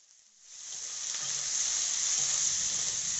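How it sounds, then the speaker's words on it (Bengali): Onion cubes dropped into a hot wok with dry red chillies, rising into a steady bright sizzle of frying that builds within the first second and holds loud and close. "এবার পেঁয়াজের কিউবগুলো কড়াইতে ছেড়ে দিলাম।"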